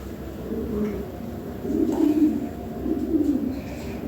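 Lahore pigeons coo in low, soft, rolling calls that swell and fade a few times, close by, with no talking over them.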